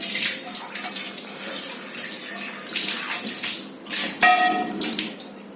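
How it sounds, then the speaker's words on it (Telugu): Running water splashing over a soapy dosa pan being scrubbed in a sink, steady hissing flow with occasional clinks of metal and a brief sharp clank near the end. "సోప్కి వాష్ చేయాలి."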